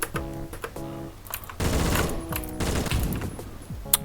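Gunfire from the Roblox shooter Phantom Forces, several bursts of close shots crackling in quick rhythmic clusters over a game soundtrack, with no talk.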